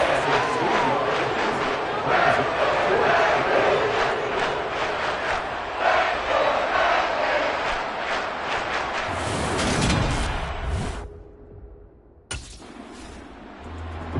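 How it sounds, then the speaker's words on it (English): Stadium crowd noise from a Madden 23 football game, a steady dense roar with shifting swells that drops away abruptly near the end before a thinner crowd bed returns. "The crowd maybe losing just a little bit of the edge after back-to-back punts."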